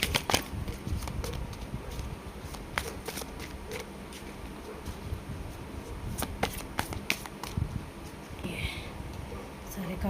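Tarot cards are drawn and shuffled for a love reading, giving soft, close papery flicks and taps in irregular bursts over quiet background, with a faint voice in places.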